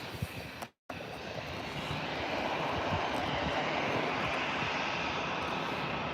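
A Vueling airliner at Birmingham Airport gives a steady, broadband engine roar that builds slightly and holds at a fairly strong level, heard from a distance across the airfield, with a brief dropout near the start.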